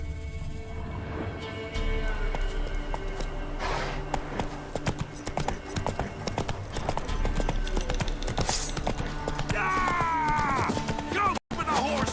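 Horse hooves clip-clop in a steady rhythm amid game ambience and music tones in The Witcher 3, moderately loud.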